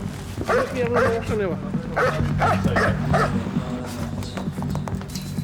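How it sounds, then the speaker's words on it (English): A police tracking dog barks and yips in an excited, irregular series of close barks while people talk over it. "It's time to let loose the hounds."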